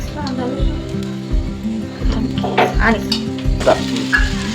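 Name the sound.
mustard seeds, cumin and turmeric sizzling in hot oil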